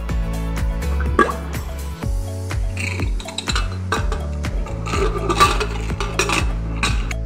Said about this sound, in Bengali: এবার ডালের কৌটোটা আমি প্রেসার কুকারে বসিয়ে দেব।